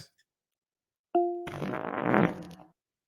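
A smart speaker (Alexa) plays a fart sound effect: a single long, deep, rumbling blast after a short click, loud and alone, ending abruptly.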